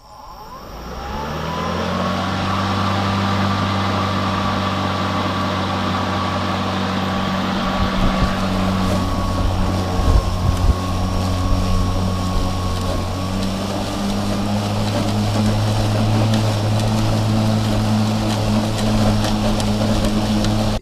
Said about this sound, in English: Listen for the difference in engine speed as it encounters higher grass.